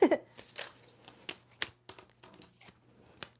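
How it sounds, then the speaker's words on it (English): A brand-new tarot deck is shuffled in quick, crisp bursts of card riffling and flicking, close to the mic, with soft pauses between the snaps and no talk. "I love the way a new deck sounds when I'm shuffling it"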